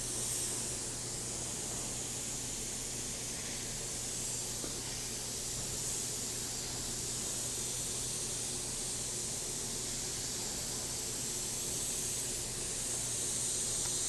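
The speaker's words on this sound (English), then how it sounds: "So the closer you get with the airbrush, the tighter and darker you can make the color." An airbrush sprays paint while weathering rivets, giving a steady, soft continuous hiss with a faint low hum underneath, unbroken and fairly quiet from start to finish.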